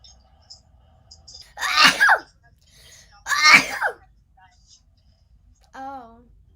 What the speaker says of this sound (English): I'm sneezing so much lately.